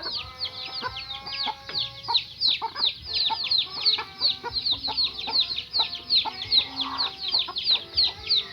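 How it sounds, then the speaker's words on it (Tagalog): Free range chickens on a farm cluck and chatter steadily in a dense, close flock, with frequent overlapping calls and occasional louder squawks throughout. "This is the reason behind why it is good to have a free range chickens."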